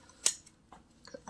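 Scissors snip a length of Husqvarna weed wacker trimmer line, one sharp close cut followed by a few fainter clicks and handling sounds, with no talking.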